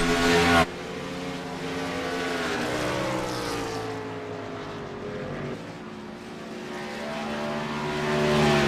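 Racing trucks lapping the track at Texas: loud engine drones rise and fall as trucks pass close by, with one sharp cutoff near the start and pitch sweeps as they go by, no talking.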